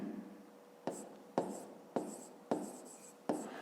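Pen writing in a notebook while working a fifth-grade maths problem, five or six crisp scratchy strokes at roughly even intervals, close and quiet, alone without speech.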